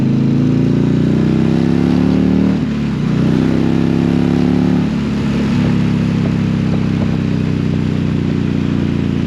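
A 2022 Indian Challenger Dark Horse motorcycle on a test ride makes a loud, steady engine drone with rising and falling revs, the pitch dipping briefly twice before settling, close and continuous throughout.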